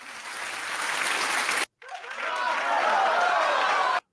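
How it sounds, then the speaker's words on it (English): Applause from a studio audience, loud and sustained, with a brief cut of silence partway through before the clapping resumes at full strength. "Let's give an applause for that, huh?"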